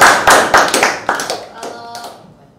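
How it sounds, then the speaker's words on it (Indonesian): A handful of people clapping on a talk show set, a short burst of close, sharp claps that thins out and fades within a couple of seconds, with voices briefly mixed in. "Tepuk tangan dulu."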